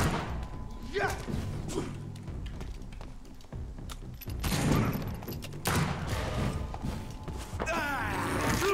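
Gunfire in the video game Vampyr cracks in rapid, irregular bursts aimed at an enemy, mixed with heavy thuds and clattering, loud and close, while someone talks over the action.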